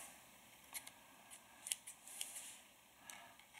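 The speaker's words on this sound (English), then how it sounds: "we're going to trim a little off of this corner here" Scissors make several quiet, close snips while trimming the corner of a cotton wick on a Reload RTA vape atomizer, the sharp clicks spaced irregularly over faint hiss.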